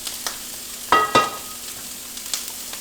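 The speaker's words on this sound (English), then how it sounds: "So, in goes the broth" Broth poured into a pot with sesame oil sets off a steady close sizzle, with a couple of sharper splashy clinks near the middle and faint hiss throughout.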